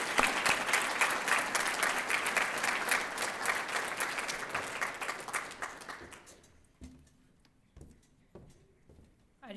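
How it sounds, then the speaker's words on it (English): An audience claps for an award recipient at an alumni award ceremony. The dense, loud applause thins into scattered claps and then fades, with a voice starting at the end. "Let's give a big round of applause and congratulations to Rachael Dietkus Miller."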